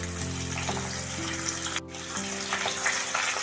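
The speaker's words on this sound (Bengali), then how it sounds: "তেলের মধ্যে একটু নাড়াচাড়া করে নিয়ে আলুকে এবার আমি এর মধ্যে দিয়ে দিচ্ছি" Potato chunks sizzle and fry in hot oil for a lemony potato curry, a steady crackling hiss over a low tonal hum, broken by a brief dip near the middle.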